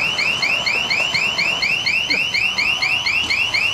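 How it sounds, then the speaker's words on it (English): An alarm beeps in a rapid, regular electronic pulse that repeats steadily and loudly without a break, with no voices over it. "Look, I've got to turn this alarm off"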